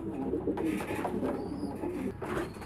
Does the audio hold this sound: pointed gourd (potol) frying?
no